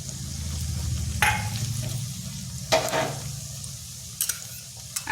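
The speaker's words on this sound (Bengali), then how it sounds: "পেঁয়াজটা হালকা ভাজা হয়ে গেছে। এখানে দিচ্ছি আদা বাটা" Onion frying with ginger paste in a pan, a steady close sizzle with a few sharp scraping stirs of a spoon against the pan.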